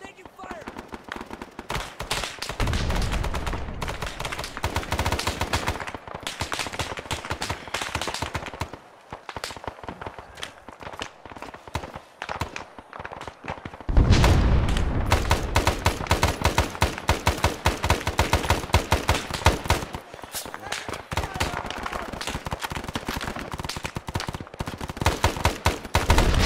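Heavy gunfire from the Battle of Lumphat erupts after a shouted order to fire, loud bursts of rifle and machine-gun shots rattling in long volleys with brief lulls, voices calling out between them.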